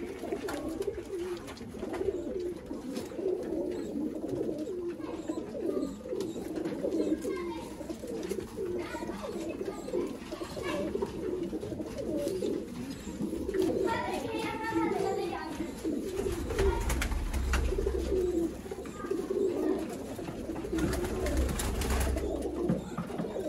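Teddy pigeons kept as a pair in Sialkot coo steadily, their soft throaty calls repeating close by over a constant low background murmur throughout.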